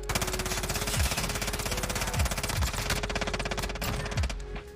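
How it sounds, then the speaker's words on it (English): A sentry gun turret firing in a video game, a rapid, continuous mechanical rattle of automatic shots held at steady loudness throughout, with occasional deeper thumps beneath the stream of fire and no talk. "I got a turret and a sentry gun."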